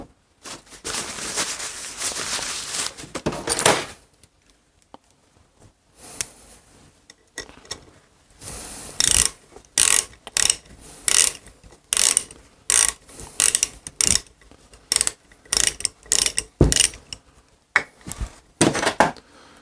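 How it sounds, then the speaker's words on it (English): An open-end wrench tightening a rocker arm shaft on a Shovelhead engine: close metallic scraping and rasping, then a run of sharp, irregular clicks in short bursts. "that'll hold it while I tighten the shaft"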